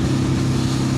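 KTM 690 SMC motorcycle cruising at about 60 mph in sixth gear near 3,900 rpm, its engine a steady, loud, even drone mixed with rushing wind.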